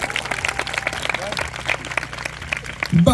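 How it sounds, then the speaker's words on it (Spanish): An audience applauds for Santa at a festive gift-giving event, scattered clapping mixed with crowd voices and talk, with a louder burst of voices at the very end. "Público, un fuerte aplauso para Santa,"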